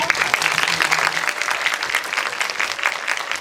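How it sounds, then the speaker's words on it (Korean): Applause from a Korean film screening audience at a Project Hail Mary guest-talk event: brisk, fairly close clapping for a few seconds with crowd murmur underneath. "큰 박수로 감사합니다"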